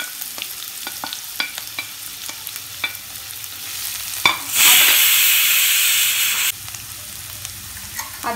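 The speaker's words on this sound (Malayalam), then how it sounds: "എണ്ണ ചൂടായി, സവാള ഇട്ട് കൊടുക്കാം." Onion dropped into hot oil crackles and sizzles, going from light popping to a loud surging hiss for about two seconds, then settling back to a steady, softer frying crackle close by.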